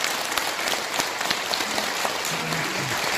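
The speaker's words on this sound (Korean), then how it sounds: "박수 부탁드리겠습니다." Dense applause from an audience at a Korean conservative political forum, many hands clapping steadily and evenly throughout, loud and close with no speech over it.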